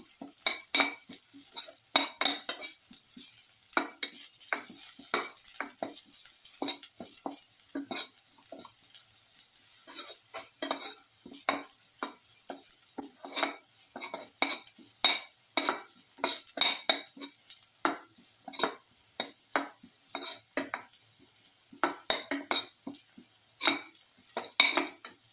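A spatula scrapes and clinks against a pan while chicken stir fry with ginger and salt sizzles, the stirring strokes coming in irregular bursts over a soft, steady frying hiss.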